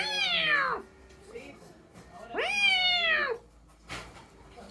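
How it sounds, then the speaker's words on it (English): A house cat meows twice, each a long, clear, drawn-out cry from close by, with a short gap between them and a brief bump of handling noise at the end. "A cat!"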